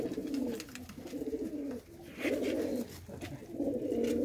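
A pigeon from a hobbyist's flock coos close by in repeated soft, throaty phrases with short pauses between them, clear over a faint background.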